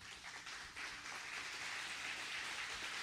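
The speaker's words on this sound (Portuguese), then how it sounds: "Aplauda bem forte ao Senhor." A church congregation applauds loudly during a worship service, producing a dense, steady wash of clapping that holds strong for about three seconds with no voices over it.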